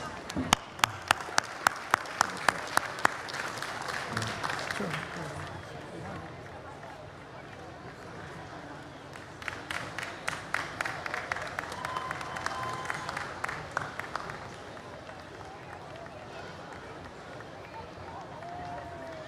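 Audience applause for a former President of India at a large cultural festival gathering, bursts of crowd clapping in two waves with rhythmic claps rising above a steady murmur of a big hall.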